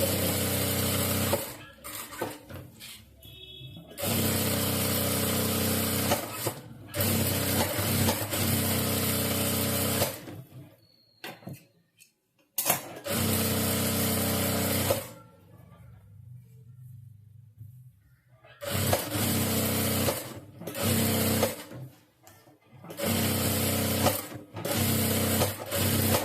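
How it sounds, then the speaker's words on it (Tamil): A sewing machine stitches the lining of a saree blouse in long, loud, steady runs, broken by a few short pauses and one longer quiet stretch partway through. "ரெண்டு சைடு நம்ம ஸ்டிச் போட்டாச்சு."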